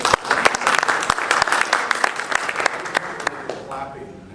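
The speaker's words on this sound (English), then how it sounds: "Clapping." Audience applause rings out at a men's prayer breakfast gathering, many hands clapping in a sharp, lively round that gradually thins and fades near the end.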